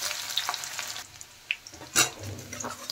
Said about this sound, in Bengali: এখন হালকা ভেজে নেব পেঁয়াজ থেকে